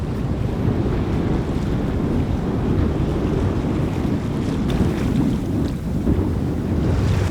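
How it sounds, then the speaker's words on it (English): Ocean waves and strong wind rush around a sailboat at sea ahead of a hurricane, a loud continuous wash of water and gusting wind buffeting the microphone, with no voices. "The waves have definitely calmed down as we've gotten a little farther out"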